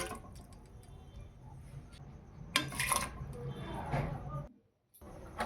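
Uncooked rice poured into a cooking pot of liquid while making fried rice, giving a soft rushing, splashing texture with light clinks of pot and utensils, louder in the middle and briefly cutting out near the end.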